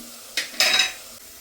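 Onions frying with salt in a pan crackle in a short hot sizzle, with a quick burst of stirring and scraping.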